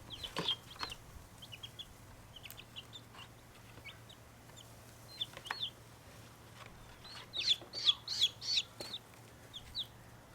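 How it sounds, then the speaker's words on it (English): Baby chicks settling into a new home peep and cluck in scattered, high, faint bursts, with a busier cluster of calls near the end over a quiet background. "I think we have chickens."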